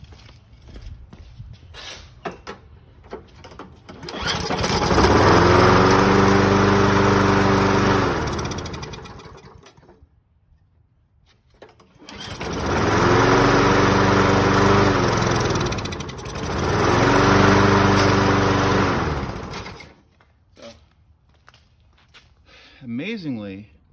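A 1991 Murray lawn mower engine runs on choke in two loud sustained stretches, cutting out in between, with a steady small-engine drone close by and quiet handling noises before and after.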